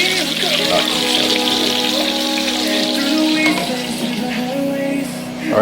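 Baby back pork ribs fry on a stovetop, giving a steady, close sizzle and crackle that runs without a break through the whole stretch, with some tonal hum in the background.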